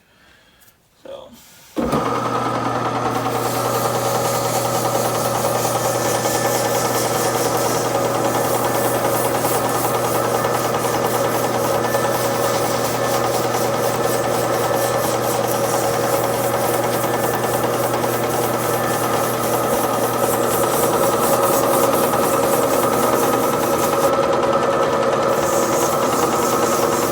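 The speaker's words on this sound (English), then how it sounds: "So now we're going to take it through 150, 240, 320, 400, and 600 grit sandpaper." A lathe spins a label cast pen blank under sandpaper, a loud, steady motor whine with a faint abrasive hiss that continues unbroken after a brief start-up.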